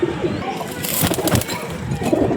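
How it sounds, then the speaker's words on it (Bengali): A Fulshira pigeon, black with one white tail feather, bursts into flight with a flurry of loud, close wingbeats that peak midway through the clip, with faint voices underneath. "চলো পায়রাটাকে ছেড়ে দেখাই।"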